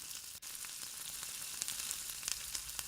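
Chana dal, cumin seeds and peanuts roast in a pan over a low flame, a quiet, steady sizzle broken by faint crackles and the occasional scrape of a stir, with no voices.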